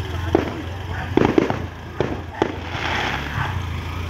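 Fireworks going off in Jolo, Sulu: several loud booming bursts over a steady crackling, rumbling background, with faint voices underneath.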